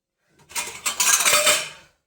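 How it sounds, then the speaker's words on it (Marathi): Fried bhaji are lifted from a pan of oil, a short burst of metal clattering and scraping against the cookware, close and clear with no voices. "गॅस कमी करते आणि भजी काढून घेते."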